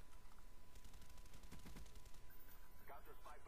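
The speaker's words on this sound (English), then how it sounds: "it's just like one bullet fired from Galil. It just sounds so bad." Galil rifle gunfire in a first-person shooter match on the Villa map, a burst of several shots clustered mid-clip amid busy game noise, with voices talking over it.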